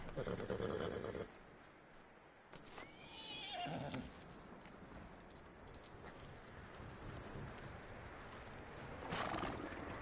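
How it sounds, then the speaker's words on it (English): Horse neighing and whinnying with clip-clopping hooves in the video game Red Dead Redemption 2, a loud whinny at the start followed by steady nearby hoofbeats and outdoor ambience, with another whinny near the end. "That looks like a decent horse."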